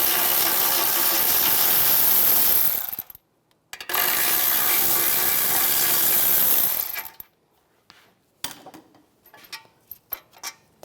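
A ratchet on an 18mm socket removes the brake caliper bracket bolts on a 2011-2019 Ford Explorer. It gives two long, loud bursts of whirring, each about three seconds, followed by scattered light clicks and taps of metal.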